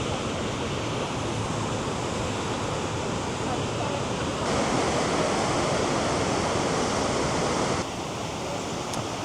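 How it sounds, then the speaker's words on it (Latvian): Small waterfalls in Krka National Park rush with a loud, steady broadband roar of falling water that fills the whole stretch, shifting slightly in intensity partway through, with no clear talk over it. "Maziņi ūdenskritumiņi,"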